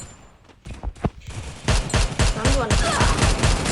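Rapid bursts of gunfire from a Free Fire battle royale match, a ranked 4 vs 4 game, crackling loud and dense after a quieter start, with overlapping shots and voices talking beneath.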